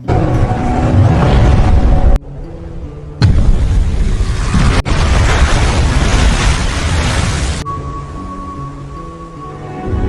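A car bomb detonates after the car has driven into the sea in a film: loud, broad explosive roars and rumbles in sustained bursts with brief drops between, settling into a lower continuous rumble.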